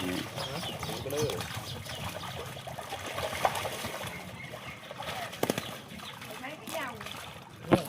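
Water flows and trickles in a canal in Suphan Buri, a soft steady splashing with occasional louder splatters, while people talk over it.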